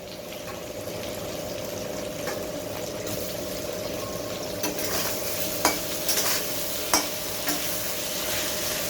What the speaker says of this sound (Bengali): আমি এটা ঢাকা দিয়ে ভাজছি, কেননা তাহলে আলুটা